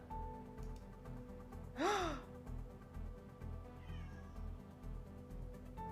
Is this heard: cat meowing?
yes